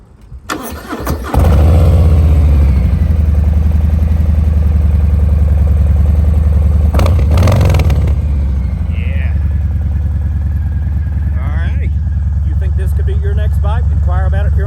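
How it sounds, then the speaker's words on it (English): A 2021 Harley-Davidson Heritage Softail with a Vance Hines slip-on exhaust cranks and fires, then settles into a loud, deep, lumpy idle with a sharp throttle blip partway through, close to the bike. "I got the Vance Hines slip-on exhaust on there. Sounds really good. Real good deep tone. Let's take a listen to it real quick."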